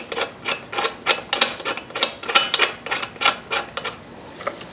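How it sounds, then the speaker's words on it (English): A metal piston stop tool is threaded into the spark plug hole of a Homelite leaf blower, giving a close series of rhythmic scraping, ratchety clicks. "I'm going to immobilize the piston from moving up and down using this tool right here. You just thread it into the spark plug hole."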